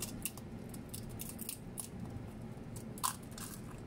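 An egg is cracked open into water in a home ritual, giving a faint, brief crunchy crack near the end over a quiet, hissy room background with a few soft clicks.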